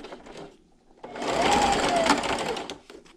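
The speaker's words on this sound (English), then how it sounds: "And just keep sewing." A sewing machine stitching quilt fabric with a quarter-inch seam, running in one steady whirring burst of about two seconds after a brief quiet start, close and clear.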